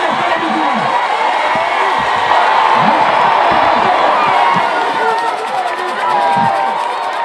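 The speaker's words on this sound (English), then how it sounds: "Excitement erupts within the crowd as they push to see the crippled man walking without his crutches." A huge crowd of thousands at an outdoor healing crusade in Kikwit roars and cheers in excitement, loud and sustained with whoops and shouts layered through the dense crowd noise.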